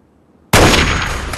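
A single loud gunshot from Fallout 3 cracks out of near silence, followed by a long, dense, ringing tail that fades slowly.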